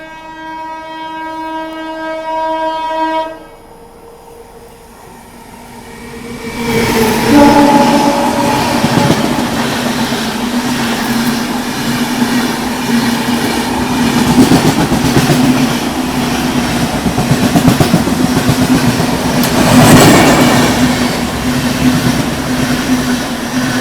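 A train passes during an overtake at Palwal railway station, where construction work is under way; a horn sounds at the start, then a loud, steady rumble of passing wagons with rhythmic wheel clatter continues to the end.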